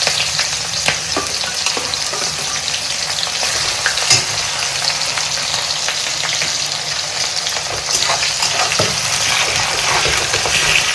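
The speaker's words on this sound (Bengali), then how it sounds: "এবার পেঁয়াজ দিয়ে দেবো, পেঁয়াজ আর দুটো কাঁচা লঙ্কা।" Onions and green chillies fry in a pan for a Bengali-style chicken curry, giving a loud, continuous sizzle with scattered pops and occasional utensil scrapes as they are stirred.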